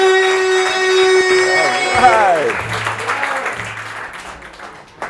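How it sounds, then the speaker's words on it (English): An audience claps at an evening stump-speech event at Busboys and Poets in Washington, DC, with a sustained musical tone at first, then a voice speaking over the continuing applause. "So y'all start clapping right now"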